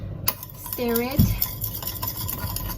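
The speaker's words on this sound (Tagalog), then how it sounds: "Stir it" A spoon stirs dalgona coffee mixture with a few grams of hot water, clinking and scraping against the cup in quick close strokes, with a brief tonal ring partway through.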